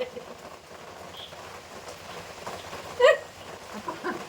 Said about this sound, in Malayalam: മഴയുടെ സൗണ്ട്